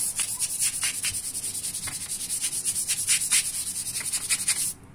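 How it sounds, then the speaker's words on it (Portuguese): A small brush scrubs the corners of a kitchen sink in quick, steady back-and-forth strokes, a close, continuous rasping rub that runs for several seconds and stops abruptly. "Mas mesmo assim, vamos dar uma esfregadinha. Vou pegar aqui essa escovinha mesmo de esfregar aqui."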